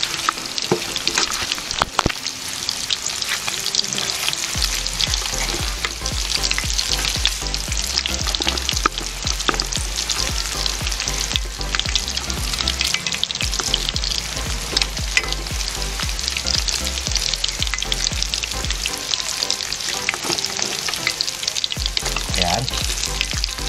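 Chicharon bulaklak (pork intestine) frying in hot oil while being stirred, loud continuous sizzling and crackling with frequent scraping stir sounds up close, no voices.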